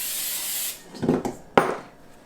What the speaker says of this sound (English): I'm just going to spray it with a little bit of Pam.